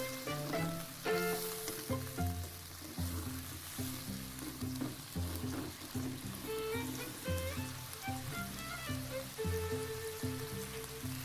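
Mixed vegetables stir-fried in a pan, with continuous loud sizzling and frying crackle plus scraping and clinking of stirring throughout, with no talk.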